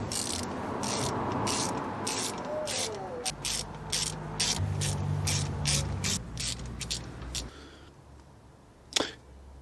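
A ratchet wrench clicks in quick, close bursts while removing spark plugs from a car engine, and the short pauses between strokes carry faint background noise.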